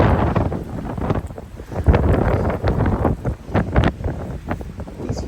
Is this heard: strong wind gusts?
yes